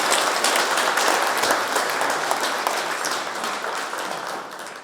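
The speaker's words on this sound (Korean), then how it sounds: "뜻을 같이 하는 힘찬 박수 부탁드립니다." A large audience at an inauguration ceremony for a senior citizens' association leader claps vigorously and steadily, a dense sustained applause that gradually tapers off toward the end.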